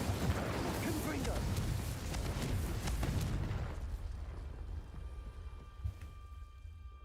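Confringo explosive spell going off in the Hogwarts Legacy video game: a dense, booming blast with crackling debris that rolls on loudly for a few seconds, then fades into a quieter rumble and faint ambient tones.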